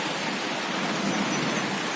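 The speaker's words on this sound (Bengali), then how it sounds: "বাইরে এখানে পুরো বৃষ্টি গাইস" Heavy rain pours steadily outside during a storm that has knocked out the power, a dense, unbroken wash of noise that stays loud and even for the whole moment, with no voices.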